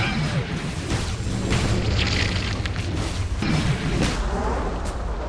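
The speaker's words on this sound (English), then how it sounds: "Radiant's middle tower has fallen." A Dota 2 tower collapsing in a booming explosion, heavy low rumbles and bursts rolling over continuous battle noise and game sounds for several seconds.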